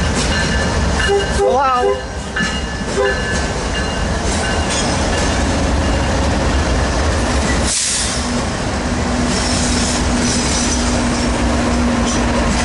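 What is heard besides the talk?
freight trains passing, port stacker train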